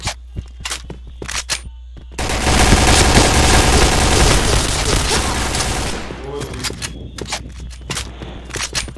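Sharp clicks, then a sustained dense burst of rapid automatic gunfire from a game that fades out, followed by more scattered clicks.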